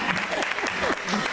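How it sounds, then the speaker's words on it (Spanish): Audience applause at a live pop concert in a Puerto Madero club, steady dense clapping filling the short moment with a few whoops and voices mixed in. "¡Un aplauso, por favor!"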